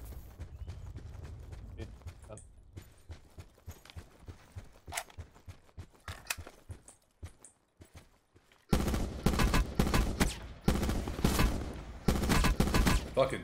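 Gunfire in the Call of Duty Blackout video game: scattered sharp shots and footsteps at first, then after a short silence dense, loud bursts of rapid automatic fire close by.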